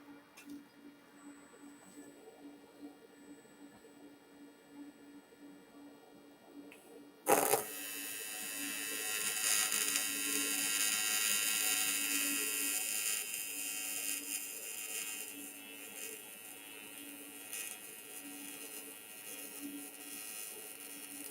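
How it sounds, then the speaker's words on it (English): An arc welder strikes on the end of a sheet-metal intercooler after a quiet hum, then a continuous crackling, hissing buzz sustains steadily for over ten seconds, close and fairly loud. "let's see if we can get this end welded up with a nice arc shot"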